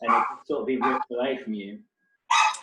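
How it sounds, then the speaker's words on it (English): Dogs barking in the background behind a seated interview conversation, a couple of short sharp yips cutting in after a person's speech, close enough to be clearly audible. "the dogs are making a guest appearance here in the back"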